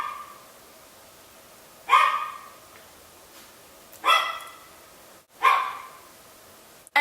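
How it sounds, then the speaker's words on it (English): A dog barks three separate times at a moderate distance, with quiet pauses between each bark and no talking. "that's a dog"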